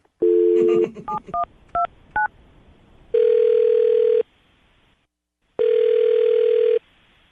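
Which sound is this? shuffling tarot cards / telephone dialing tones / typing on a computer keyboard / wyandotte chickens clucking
telephone dialing tones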